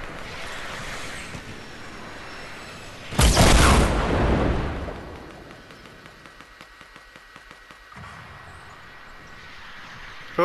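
A rocket blast in an online battle-royale shooter, a sudden loud broadband boom that rumbles for about two seconds before fading into steady game ambience and faint ticking.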